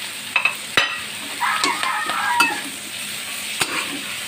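Thinly sliced carrots go into a pan of already cooked meat for chopsuey and are stir-fried, with sharp clanks of a utensil against the pan over a steady sizzle and scraping stirs.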